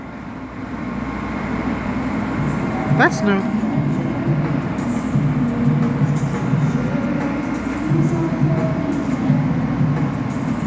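Amtrak train at a station platform, a low steady rumble and hum of the idling or slowly moving train, with a public-address announcement and brief talk over it.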